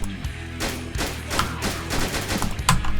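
Suppressive gunfire from soldiers in GTA 5, a British army patrol in Los Santos, sounding as a steady run of overlapping rifle shots and dense bursts at mid distance, with no talk over it.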